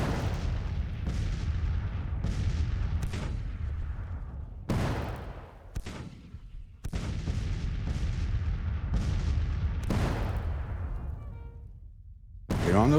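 Civil War artillery and musket gunfire in Grand Tactician: The Civil War, with repeated loud booms and crackling volleys that overlap in a steady, continuous barrage, broken briefly by sharp individual blasts.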